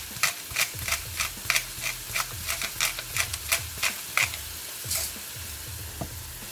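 Seasoned ground meat for lasagna sizzles in a frying pan as a utensil stirs and scrapes through it in steady repeated strokes, close and clear with a constant fry hiss underneath.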